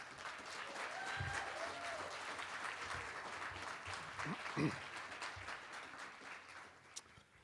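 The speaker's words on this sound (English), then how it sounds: "Can we get a round of applause" Audience applause at a college student leadership awards ceremony, steady clapping throughout with a few louder claps and faint voices mixed in.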